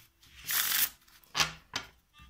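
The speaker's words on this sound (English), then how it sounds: "Let me give the cards a quick shuffle," Playing cards are shuffled close up, one long riffling burst followed by two shorter snaps as the deck is squared, with no talking.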